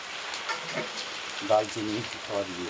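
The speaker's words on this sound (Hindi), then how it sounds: "तो ये बारिश भी चल रही है हल्की फुल्की" Light rain falls steadily outdoors in a hill village as a steady hiss, with a person talking briefly over it.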